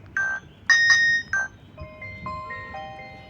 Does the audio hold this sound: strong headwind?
no